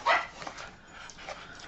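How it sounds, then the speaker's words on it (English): A puppy barking indoors at someone on the driveway, one sharp yip followed by a few fainter yelps, quiet and slightly distant with no speech. "It's my puppy telling me there's someone on the drive."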